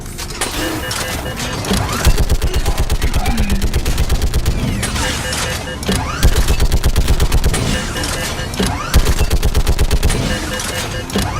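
Mounted turret gunfire in Mass Effect 3 hammers out rapid automatic bursts of about two seconds each, loud and close, with short gaps and heavy impacts between volleys.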